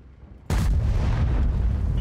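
A tank gun firing a shell in World of Tanks from an AMX M4 54, a single sudden heavy blast after near-silence, followed by a loud rumbling decay.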